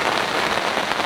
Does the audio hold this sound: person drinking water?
no